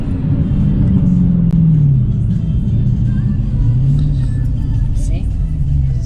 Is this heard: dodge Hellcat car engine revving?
yes